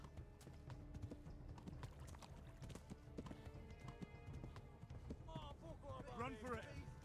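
Horse hooves drumming in a steady gallop in the medieval game Kingdom Come: Deliverance, clip-clopping under game music with a horse whinnying near the end and a voice talking over it.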